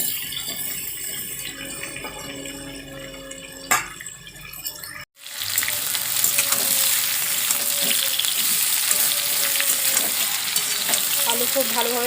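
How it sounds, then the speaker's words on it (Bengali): Potatoes seasoned with turmeric and salt frying in a pan, with a quiet stretch and a clatter before loud steady sizzling takes over, broken by occasional scrapes of stirring. "খুব ভালোভাবে আলুগুলো ভেজে নেব।"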